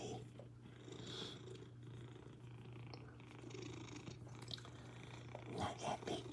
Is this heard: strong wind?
no